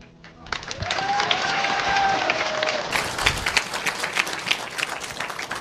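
A crowd bursts into loud applause, steady clapping swelling and sustained for several seconds, with a brief tonal sweep and faint voices mixed in.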